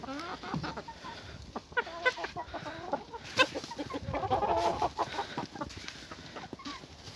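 Hens cluck repeatedly around the listener, a mix of short clucks and drawn-out calls, with rustling and a steady high hiss in the background.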